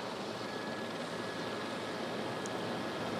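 An aircraft landing on a runway with its landing gear under strain and tires burning, heard as a steady, loud broadband roar of engine and rolling noise that continues throughout without a break.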